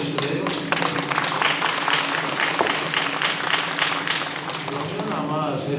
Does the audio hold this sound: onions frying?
no